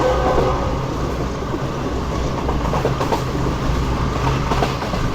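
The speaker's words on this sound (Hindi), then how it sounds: "तो 2:01 पर ट्रेन हमारी अप्रोच बना रही है मियाँ चुन्नू रेलवे स्टेशन पर।" The Pak Business Express passenger train rumbles steadily toward Mian Channu station, a loud continuous roar of wheels and carriages with faint rhythmic clicking on the rails, heard from on board with no talking.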